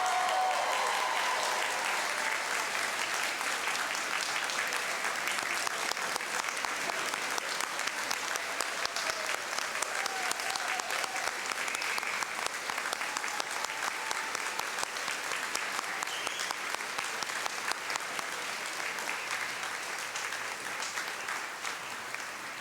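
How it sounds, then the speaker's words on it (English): Sustained applause from a convocation audience for the graduating class of 2015, steady and dense with clapping throughout, fairly loud and continuous with no talking over it. "let's have a big round of applause for the graduating class of"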